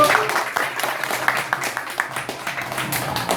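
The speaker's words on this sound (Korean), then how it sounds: "박수 보내주세요." A small audience claps at a Korean first-birthday party, the handclaps close and distinct with uneven rhythm, and a voice talks briefly over the start.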